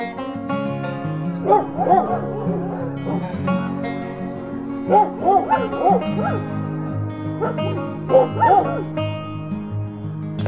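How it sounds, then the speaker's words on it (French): A pack of husky sled dogs in Swedish Lapland howls and yips in repeated bursts over a steady, layered background drone, heard at moderate distance without talk. "aujourd'hui c'est la balade en husky mais en chien de traîneau"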